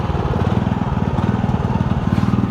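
Old Japanese Kubota walking tractor with a roughly 5 hp engine running steadily, a close, loud rapid putter chugging at an even rhythm throughout.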